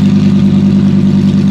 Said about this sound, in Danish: Sådan skal en bil lyde.